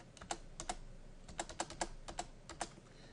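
Code is typed on a computer keyboard close up: brief clusters of crisp, quiet key clicks with short pauses between the bursts and no voices.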